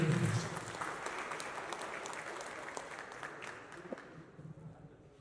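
Applause from an audience fills the room, steady clapping that gradually thins out toward the end.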